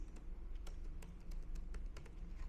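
Steady typing on a computer keyboard, quick irregular key clicks running throughout at close range, with a low background hum and no talking.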